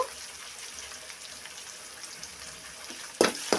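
Oil frying steadily in a pan while egg pasta is cooked, a soft continuous crackle and hiss, with a louder burst of sizzling near the end as something is stirred or added.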